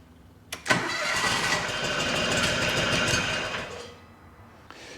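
Onan FD620 engine in a Wheel Horse 520 LXI garden tractor cranks over and briefly catches, a loud, dense churning that runs for about three seconds before dying away, with a faint stray noise near the end.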